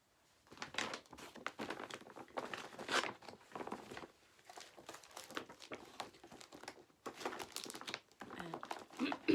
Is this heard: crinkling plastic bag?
yes